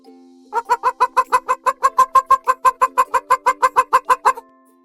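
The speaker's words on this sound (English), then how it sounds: "Hen says, "Cluck cluck."" A hen clucks in a rapid, steady series of about twenty short, evenly spaced clucks, clear and close, with no talking.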